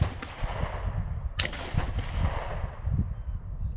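Gunfire at an outdoor shooting range while a magazine is emptied, one sharp loud crack standing out against a rumbling, noisy background, with no talk.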